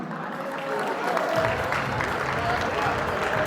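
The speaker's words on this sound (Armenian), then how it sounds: "եկեք ծափարություններով ուղեկցենք ծնողներին։" An audience at a family celebration breaks into sustained clapping for the parents, a dense, steady wash of many hands that starts partway in and carries on to the end, with a voice over it.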